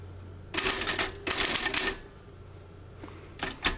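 Manual typewriter keys striking in two quick bursts of rapid clacking with shift lock engaged, typing in capitals, then a pause and a short final flurry of keystrokes, close and crisp with no talk.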